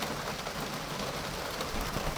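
Dense, steady rain hisses across the whole span with no breaks, a constant wash of drops during a walk in Istanbul, with no voices.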